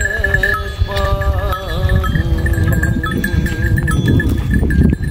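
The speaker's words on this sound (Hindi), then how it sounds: "देखें यहाँ पे भेड़ और बकरियाँ इकट्ठी हैं, अभी थोड़ी देर में इनकी लड़ाई शुरू हो जाएगी।" Sheep and goats gathered together on a desert farm, giving a dense, continuous chorus of overlapping bleats and calls close by, with a steady ringing tone like a bell running through it and no talk.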